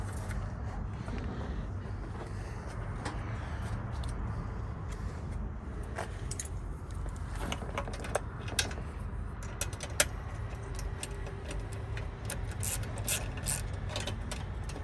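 Ratchet wrench tightening a nut while installing a vault on an RMAX 4-seat side-by-side, with repeated quiet clicking pawl strokes in short bursts against low background hum.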